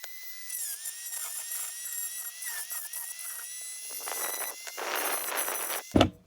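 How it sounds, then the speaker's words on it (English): A small rotary tool grinds down plastic retaining clips on a die-cast BMC Mini model of the 1964 Monte Carlo Rally car. Its high whine squeals in short, close bursts, and a sharp thump comes near the end. "Might have to just grind down those little plastic things that holding it in."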